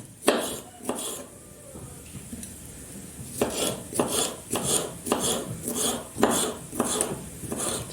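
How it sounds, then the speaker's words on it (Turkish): A knife chops a red pepper repeatedly on a cutting board, sharp knocks in an uneven then steady rhythm, close and fairly loud with scraping between cuts. "Ben bir tane kırmızı biber doğrayacağım."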